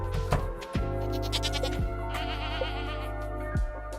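Goats bleat in Stardew Valley, several short wavering cries in sequence over soft background game music.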